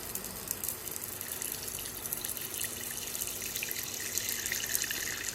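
Tap water running into a small tarantula water dish, a steady faint hiss and gush of flowing water with no voices, continuous throughout.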